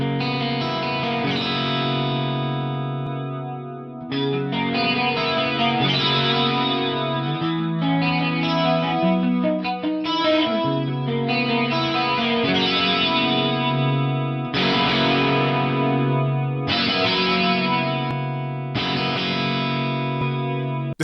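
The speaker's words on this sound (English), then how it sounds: "The standard chorus has a little bit more traditional wobble and sounds like a typical analog style pedal chorus." An electric guitar runs through the standard chorus mode of a GFI Synesthesia modulation pedal, giving a traditional analog-style wobble. The sustained chords are loud and steady, ring on with shimmering modulation, and play alone with no talk.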